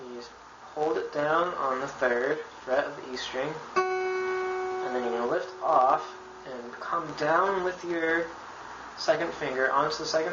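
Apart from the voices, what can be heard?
No distinct noise like a dog, phone or traffic.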